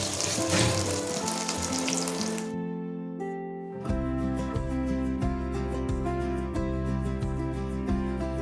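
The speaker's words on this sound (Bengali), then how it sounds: "এবার ভেজে নেব বেগনিগুলো।" Beguni, vegetable fritters, fry in hot oil, a loud continuous sizzle and crackle close by, briefly dropping away before a steady bubbling sizzle resumes.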